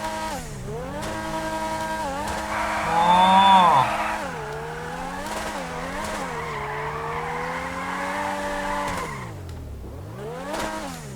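A loud, close Grotti X80 sports car engine in GTA 5 Online revs up and down with rising and falling pitch, with a brief tire screech midway and a short vocal exclamation.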